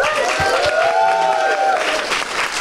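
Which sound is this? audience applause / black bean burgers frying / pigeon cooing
audience applause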